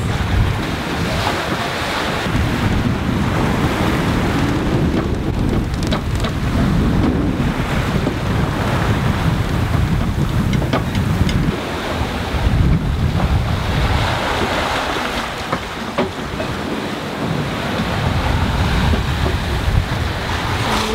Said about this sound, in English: Waves to surf with.